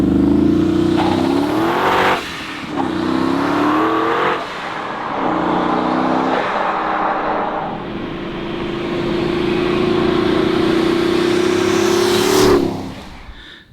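A twin turbo Morris Minor's engine revs up hard several times, climbing and dropping in pitch before holding a long, loud, rising drone near the listener.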